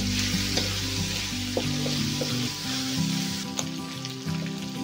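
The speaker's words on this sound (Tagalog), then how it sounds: "Ilagay na natin itong bawang guys. Garlic." Garlic fries with a steady broadband sizzle in a hot pan for a Chinese-style chop suey, with soft stirring clinks and scrapes breaking through now and then, close and continuous with no talking.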